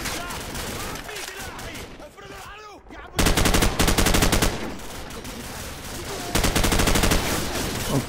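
Automatic weapons fire in the Call of Duty 4: Modern Warfare swamp level, with loud, rapid bursts of gunshots and someone speaking over the in-game sounds between them.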